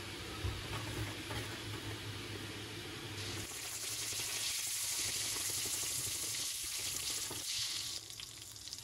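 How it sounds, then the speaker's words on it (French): A knob of butter melts in a pan with a little olive oil, starting quietly, then breaking into a bright, steady sizzle that runs for several seconds before easing off. "Je vais mettre un bout de beurre et je vais le laisser fondre."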